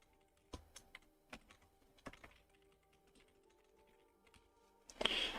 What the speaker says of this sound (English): I have to, like, type around my keyboard because my boom arm is so low.